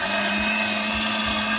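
A Vikhr blender whirs at a steady high-pitched drone while pureeing tomato sauce, loud, close and unbroken, with no voices.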